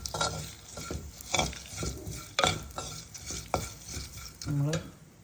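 A spoon scrapes and stirs through a curry in a pan after turmeric powder goes in, giving soft, irregular scraping strokes with a faint sizzle underneath, close up and fairly quiet.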